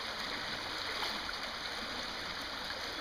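Creek water running high along a beaver trapping line makes a steady, broadband rushing and gurgling flow that continues without a break and has no voices over it.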